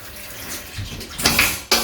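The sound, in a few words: hotel shower head spraying water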